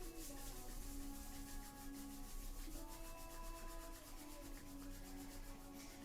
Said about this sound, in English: And rubbing the hands and the feet together.